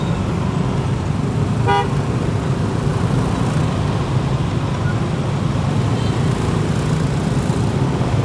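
Loud, dense traffic jam on a Jakarta road, a continuous rumble of engines with a short car horn toot early on, heard close and unbroken.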